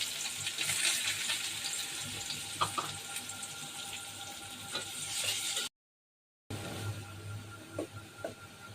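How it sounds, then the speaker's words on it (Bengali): Onions frying in a pan for a spiny gourd mash, a soft continuous sizzle heard close with a few sharp clinks of utensils, broken by a brief silent gap. "এখন পেঁয়াজটা ভেজে নেব।"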